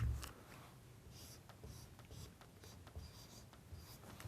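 A pen scratches out a math expression by hand, soft close strokes and taps in short bursts over a quiet background.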